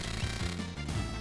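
Edgar's drill tool attack in Final Fantasy VI, a short harsh grinding buzz with a rapid pulsing rattle, loud and continuous for about a second.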